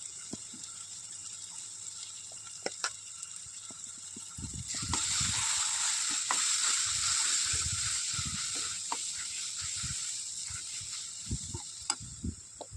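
Tomatoes frying in a pan with turmeric, garam masala, coriander-cumin powder and red chilli masala give a steady, moderate hiss that swells midway. Scattered spoon scrapes and clinks of a spatula turning the mixture sound through it.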